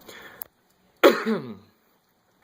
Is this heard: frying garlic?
no